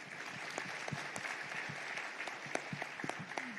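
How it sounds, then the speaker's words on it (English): Audience applause for three speakers at a panel on defence and security at a Thailand security dialogue event, a steady patter of many hands clapping at a moderate distance across the room, with a few sharper individual claps standing out. "So please give a warm round of applause to our three distinguished speakers."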